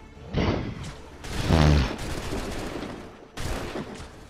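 Musket volley gunfire in Assassin's Creed III: a heavy burst of overlapping shots booms loud and close near the start, followed by rumbling battle noise and a second sharp blast near the end.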